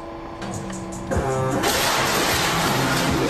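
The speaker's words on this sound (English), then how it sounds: "they also play this loud ass printer sound that we can't avoid" A loud mechanical printer in the video game FNAF 6 whirs and grinds continuously, a tonal drone with rhythmic clicks that grows into a dense, harsh rattle.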